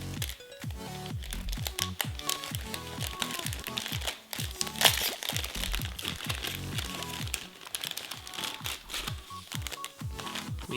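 A silver metallic packet holding an LED strip is torn open and handled up close, its crisp foil crinkling and crackling densely and continuously without pause.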